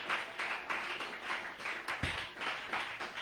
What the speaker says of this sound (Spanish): Dele ese aplauso al Señor en esta hora